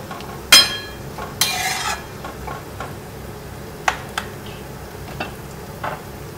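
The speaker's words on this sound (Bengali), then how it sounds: "চিংড়ি মাছটা দিয়ে একটু ভালো করে এটাকে একটু ফুটিয়ে নেব।" Prawns simmer in a pan of prawn do pyaza, with a short burst of sizzling and a few stirring scrapes and light clicks against otherwise quiet cooking.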